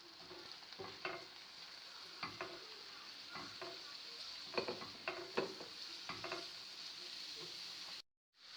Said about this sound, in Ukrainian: додаю гриби і смажу їх до готовності